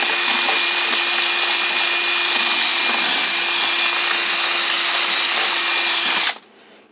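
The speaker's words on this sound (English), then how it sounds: "now I'm going to drill into this and make it a little deeper" A power drill bores into a wooden stump chair with a loud, steady, high whine that runs continuously, then cuts off abruptly near the end.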